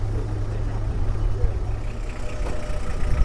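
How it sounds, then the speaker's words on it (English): Bedford pickup truck engine idling at a classic car show at Brooklands, a low steady rumble with an American-style tone, close and continuous, with faint background chatter. "I'm not sure it sounds like a Bedford, but it's got a sort of American style to it."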